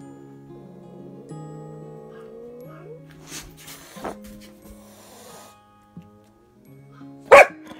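Indoors, a dog makes drawn-out whining, moaning vocal sounds that rise and fall, then goes quiet with small thumps before one sharp, loud bark near the end.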